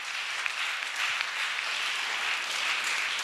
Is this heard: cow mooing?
no